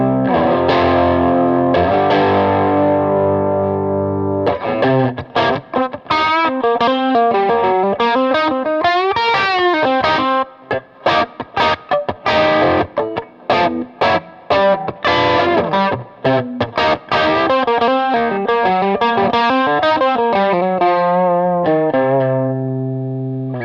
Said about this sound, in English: let's kick on some overdrive here. This is a JHS Moonshine, which is gonna kick the mids a little bit, give us a little more gain